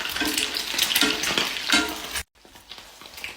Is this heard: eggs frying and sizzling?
yes